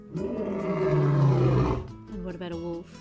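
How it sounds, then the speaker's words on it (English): A recorded lion roar from a children's zoo animals app, a loud, deep, drawn-out roar lasting nearly two seconds, followed by a shorter rumbling growl. "Lion."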